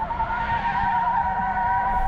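An off-road vehicle slides on loose ground during an off-road drag and brake test among a Suzuki Jimny, Jeep Wrangler and Bowler Bulldog, its tires skidding in a loud, sustained squeal close by for the whole two seconds.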